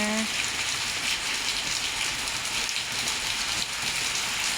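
Rain pouring onto potted caladium plants beneath house eaves in Thailand, a dense continuous hiss of drops on leaves and surfaces, steady and close.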